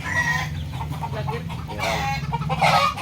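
Chickens and chicks in a backyard give soft, close clucks and peeps in an uneven stream, with a brighter burst of calls toward the end.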